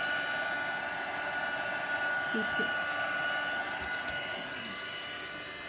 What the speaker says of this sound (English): This heat tool's got two settings, a slow speed uh, and a fast speed.